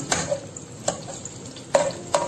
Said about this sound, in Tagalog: Haluin lang natin siya guys para hindi masunog yung bawang.